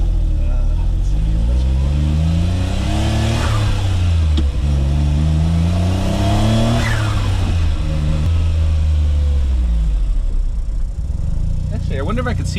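A Suzuki Cara Autozam AZ-1 kei sports car revs repeatedly, its small engine rising and falling in loud sweeping pulls with turbo whoosh and spool noises over the top, heard close.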